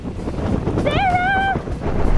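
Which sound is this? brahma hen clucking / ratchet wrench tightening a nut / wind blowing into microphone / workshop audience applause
wind blowing into microphone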